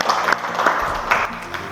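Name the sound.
classroom applause for a student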